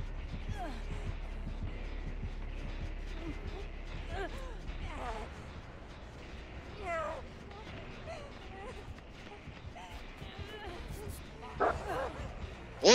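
Dog barks, yips and whimpers from a Houndmaster's hound in Dead by Daylight, intermittent and fairly faint amid game noise, with someone speaking over parts of it.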